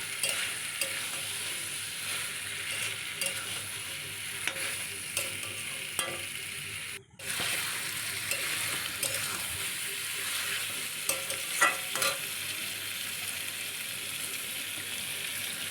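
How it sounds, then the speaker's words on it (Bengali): Potatoes stir-frying in a pan for a goat liver dish, with a steady, close frying sizzle and occasional scraping stir strokes, broken by a brief gap near the middle. "এখন আলুগুলো দিয়ে দিলাম আলুটা দিয়ে আর একটু কষিয়ে নেবো"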